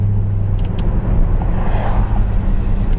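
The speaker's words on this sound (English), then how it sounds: "Fan motors coming on." Heater fan motor running inside a 1966 Plymouth Satellite Hemi, a steady low hum and rumble with engine idle beneath, fairly loud and continuous.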